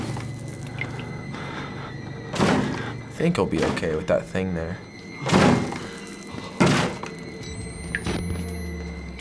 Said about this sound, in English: Someone's knocking.